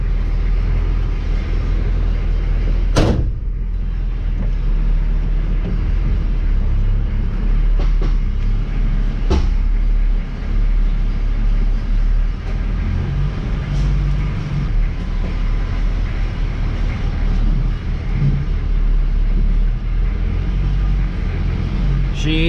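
A retired K5 Blazer CUCV military truck drives along, its engine giving a loud, constant low rumble with road noise throughout, broken by a few sharp knocks and rattles.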